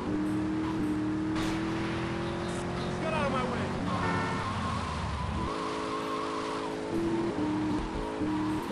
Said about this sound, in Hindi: बहुत ही मज़ा आता है इस गाड़ी को ड्राइव करने में, गाड़ी बहुत बढ़िया है और साउंड भी इसका इतना अच्छा है